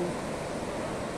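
Calm, small sea waves wash softly on Rambutsiwi beach in the morning, a faint steady hiss of surf with no distinct breaks.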